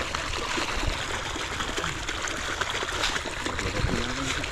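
Overflowing irrigation water gushing and trickling in a steady broadband wash, close and continuous, with no talking.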